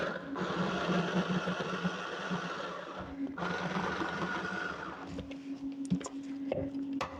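A food processor grinding a kilo of red meat with large-cut onion and spices, a loud continuous motor whir that dips briefly midway, then resumes with uneven knocking as chunks bump the bowl, close up, no talking.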